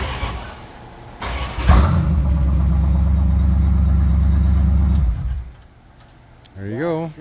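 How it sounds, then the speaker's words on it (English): Restored Bombardier Snow 75 snow machine engine starting and running for a few seconds, a loud low rumbling idle close by that cuts off, followed by someone speaking. "Just listen. In case you wonder how it runs."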